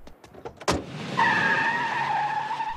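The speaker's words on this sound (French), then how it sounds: "un mec vient de se barrer avec ma voiture" A door thuds shut after a few quick knocks, then the car's engine revs and its tires squeal in a long, loud screech as it pulls away.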